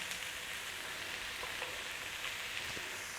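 Onions, garlic and potatoes for a corned beef hash pie fry in oil with a soft, even hiss that holds steady throughout, faint and close, with no talking over it.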